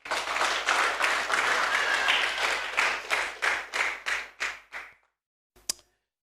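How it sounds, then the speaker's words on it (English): A church congregation claps hands together, a dense wash of clapping that breaks into a few slower unison claps before stopping, followed by a short pause and one last faint clap. "Shall we clap our hands?"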